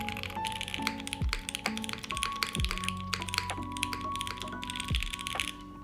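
Typing on an Eden 60% mechanical keyboard in an O-ring build, quick close clacks and soft thocky keystrokes in a busy uneven rhythm, with occasional lower thuds, alone without talk.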